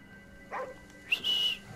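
Dog in the video game Ghostwire: Tokyo, two short faint high yelps or whimpering barks about half a second apart, the second longer and whistle-like, over a quiet background.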